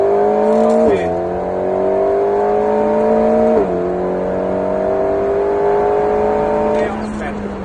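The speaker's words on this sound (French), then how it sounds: "Et on accélère à fond." Alpine A110S driven flat out on a race circuit, its engine note climbing steadily through the gears with two brief dips at upshifts, loud and close, with a voice talking over it.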